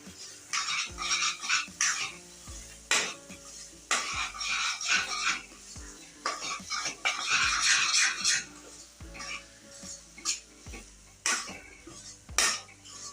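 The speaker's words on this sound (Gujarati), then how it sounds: "બધો મસાલો આપણે સરસ રીતના મિક્સ કરી લઈશું" A spoon scrapes and clinks against a pan as spice mix with peanuts is stirred into a brinjal curry, the irregular bursts of metallic scraping coming close and moderately loud, with short pauses between strokes.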